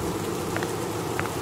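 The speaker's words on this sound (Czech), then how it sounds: "Aspoň ten déšť je trošičku utěšující." Rain in the video game MONO: a steady, quiet hiss of falling rain, with a couple of faint brief ticks on top.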